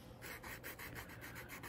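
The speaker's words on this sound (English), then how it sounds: "Now, I'm going to sand, as I said before, the side edge." Coarse P80 sandpaper rasps along the side edge of a baked polymer clay spear pin in a steady run of close, repeated back-and-forth strokes, with no talking.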